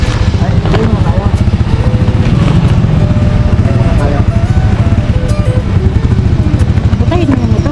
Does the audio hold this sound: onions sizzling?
no